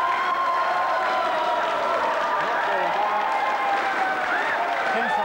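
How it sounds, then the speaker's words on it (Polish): Studio audience applause on the Polish game show Koło Fortuny, a steady, dense wash of clapping and some cheering that lasts the whole stretch with bright music-like tones running beneath it. "Dziękuję bardzo wam za oklaski."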